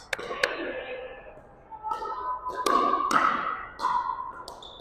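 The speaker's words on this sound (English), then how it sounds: "Nice submarine shot, though." A ball hit with a low submarine shot during a mixed doubles game, heard as a few sharp taps and thuds spread over several seconds among other court sounds, with voices talking in the background.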